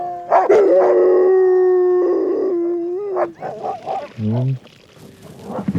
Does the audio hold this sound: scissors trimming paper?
no